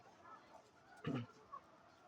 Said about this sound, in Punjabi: ਸਕਾਈਲੈਕ ਇਸ ਮੁਰਗੀ ਦਾ ਨਾਮ ਹੈ